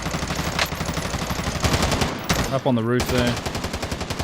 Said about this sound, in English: Someone getting shot at?